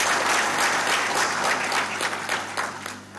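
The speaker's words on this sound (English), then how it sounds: "Let's have a big round of applause for all our distinguished guests." A conference audience applauds its distinguished guests, a dense burst of many hands clapping that stays loud, then thins and softens slightly toward the end.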